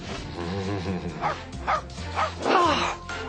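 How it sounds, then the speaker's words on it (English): A dog barks in a few short, yipping bursts close by, rising to a louder, whimpery bark near the end, with a voice faintly audible in the background. "Your dog woke me."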